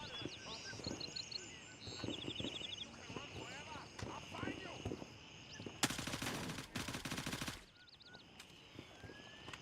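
Gunfire from a video game using FMJ rounds, a sharp burst of rapid automatic shots in the middle, with someone talking throughout and other game sounds mixed in.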